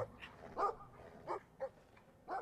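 A dog in the video game Brothers: A Tale of Two Sons barks and yips in short separate bursts, about five in a row, faint and fairly close with quiet between them; no talking.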